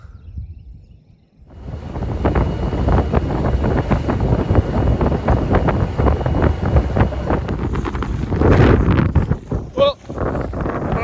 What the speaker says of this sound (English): motoring into a straight headwind, and I'm not going to be able to record too much because no one wants to listen to engine and wind noise